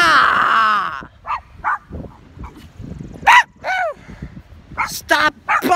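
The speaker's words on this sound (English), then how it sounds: "Stop barking!" A dog barks repeatedly in sharp, loud bursts close by, outdoors on a windy day near swings, with a person's voice speaking around the barks.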